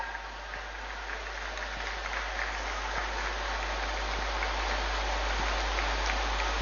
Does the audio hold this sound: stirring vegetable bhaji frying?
no